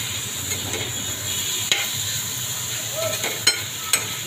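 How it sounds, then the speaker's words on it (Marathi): New potatoes with added tomato being stir-fried in a pan, giving a steady soft sizzle with a few scraping stirs and light clinks of a spoon against the pan. "आता मी हा टोमॅटो ॲड करून घेते आणि परतून पुन्हा"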